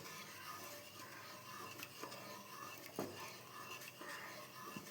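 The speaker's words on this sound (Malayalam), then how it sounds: "അപ്പോൾ ഞാനിതാ ഇത് ഇളക്കി കൊടുത്തോണ്ടിരിക്കുന്നുണ്ട്" A spoon stirs orange pudding mixture in a pan on the heat, producing faint scraping strokes against the pan every second or so over a soft background hiss.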